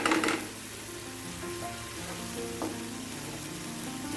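Hilsa fish frying in a pan with sugar caramelizing, a steady sizzle and crackle holding evenly throughout, close and moderately loud with no talking.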